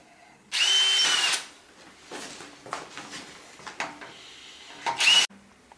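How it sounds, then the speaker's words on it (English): A power drill with a 5/16 bit whines loudly in two bursts, a long one and then a short one, drilling out holes on a hydraulic pull wagon kit, with quieter handling clatter in between. "Back to the 5/16 drill bit. I'm going to drill these holes out."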